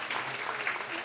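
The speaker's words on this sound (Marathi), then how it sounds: "जोरदार टाळी वाजवा त्यांच्यासाठी" A short burst of dense applause from the audience at a Warkari kirtan, greeting a mridang and pakhawaj player, with a voice faintly underneath.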